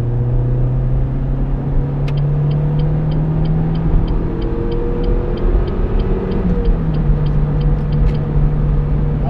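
A 2006 Renault Megane Phase 2 1.6 16V accelerating on the road, heard from inside as a steady engine drone rising in pitch with tire rumble, and a faint repeating tick or chime.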